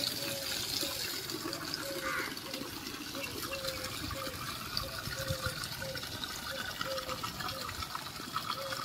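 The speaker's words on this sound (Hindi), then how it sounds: "साफ पानी भर दो।" Clean water trickles and splashes steadily into a homemade bird water pot in a kitchen garden, a continuous close pouring sound with faint outdoor background noise.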